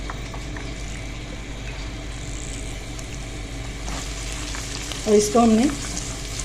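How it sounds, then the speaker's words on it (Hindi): Ginger garlic paste fries in hot oil over a low flame for chicken korma, making a continuous sizzle, and a brief spoken phrase comes near the end. "अदरक लहसुन हमारा भुनना शुरू हो गया।"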